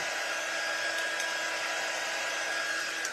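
A hair dryer blows steadily on a craft project for a few seconds, a close, constant whooshing whir at even loudness with no talk.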